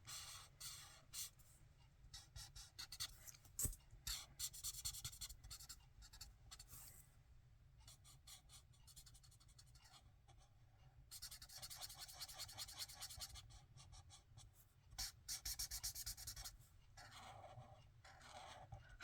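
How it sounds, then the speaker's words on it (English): A marker scratches and rubs across paper while colouring a stamped Easter bunny card, coming in quick irregular bursts of strokes with short pauses, close and soft, with no talking. "How many of you like to hear the sound of a marker rubbing against a piece of paper while you're working with it?"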